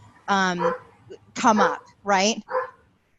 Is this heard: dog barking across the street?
yes